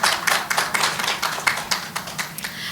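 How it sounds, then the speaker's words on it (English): A small group at an awards ceremony claps, the claps loosely spaced and steady, moderately loud, with no voices on top. "Please give her a huge round of applause."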